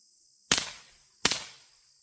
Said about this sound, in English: That was 22 shots right there.